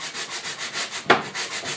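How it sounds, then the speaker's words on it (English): Sandpaper rubs over adhesive on a plastic car bumper in quick, even back-and-forth strokes, close and fairly quiet, with one slightly sharper scrape near the end. "I'm just going to sand right here on the adhesive."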